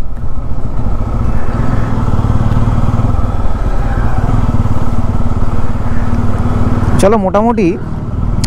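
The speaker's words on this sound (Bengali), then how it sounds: "নদীর ধার দিয়ে বাইকটা এক পাক চালিয়ে আসি।" Motorbike ride along a riverside, its engine droning steadily and fairly loud throughout, with a short burst of speech near the end.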